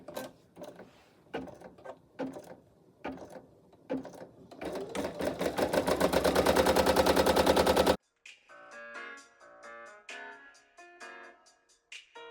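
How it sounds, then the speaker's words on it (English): A Brother embroidery machine stitches an applique design, starting with scattered mechanical clicks that build into a loud, rapid, steady needle chatter, then breaks off abruptly into quieter, uneven stitching bursts. "lower my presser foot and then press the green button to begin embroidering."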